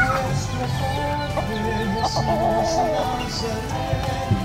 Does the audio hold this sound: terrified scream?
no